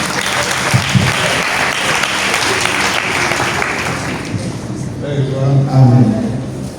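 A church congregation applauds as a speaker arrives at a charismatic renewal gathering, with sustained clapping from a crowd in a large room, and a voice speaks over it toward the end.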